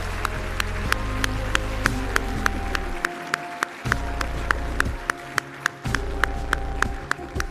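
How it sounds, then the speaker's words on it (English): An audience at the ACT party's 2020 campaign launch claps to welcome a speaker to the stage, steady sustained applause that continues with a few sharper individual claps standing out. "You're about to have to clap again."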